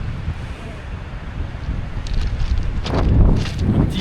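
Seaside wind on a pebble coastal trail in Brittany facing the island of Bréhat, a steady blustery rumble swelling louder toward the end, with some faint voice underneath.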